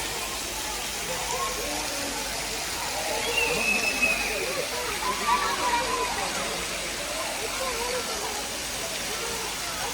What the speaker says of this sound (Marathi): इथून वरून पण आपल्याला पाणी पडताना दिसते